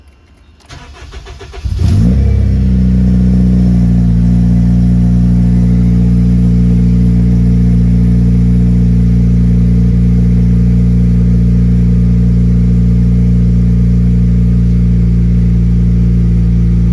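A 2-step-tuned Acura RSX Type-S with a Ktuner install cranks and fires up after a short starter whir, then settles into a loud, steady idle close to the microphone with a strong low hum.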